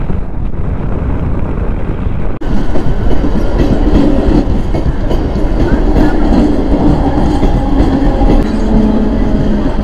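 A train rolls past a closed railway crossing near Marvali station, a loud, continuous rumble with rhythmic wheel clatter and heavy wind buffeting close to the microphone.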